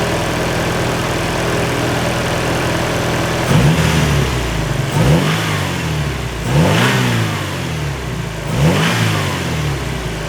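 A car engine idles during a fuel pressure test, a steady low rumble broken by several sharp revs that rise and fall in quick succession, loud and close with no talking.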